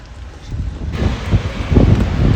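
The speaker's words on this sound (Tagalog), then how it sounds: "Hangin." Outdoor wind buffeting the microphone near water, a steady rushing roar that swells and gusts louder over a couple of seconds, with no clear talking.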